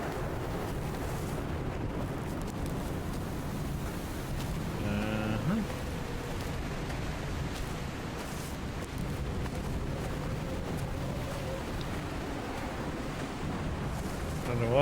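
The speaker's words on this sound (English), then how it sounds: "It's windy." Wind roars steadily across the island in Dear Esther, a continuous low rushing gust that stays loud throughout, with a faint voice briefly heard beneath it.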